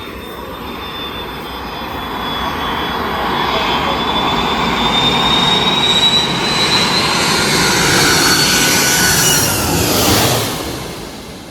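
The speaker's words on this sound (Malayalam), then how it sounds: "2:45 ആയപ്പോഴത്തേക്കും വലിയൊരു ഫ്ലൈറ്റ് വന്നിട്ടുണ്ട്." A large passenger airplane roars overhead, its jet engine rumble swelling loud and broad before easing slightly at the end.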